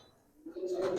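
Pakistani highflyer pigeons on a farm give a single rising coo that swells in the second half, moderately close and alone.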